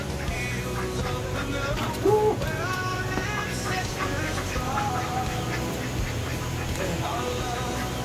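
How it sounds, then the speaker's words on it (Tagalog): Ducks quack repeatedly while being fed on a hike in the Cordillera, the calls rising over a constant busy background with people chattering nearby. "tayo naman po ay magpapakain ng mga patos"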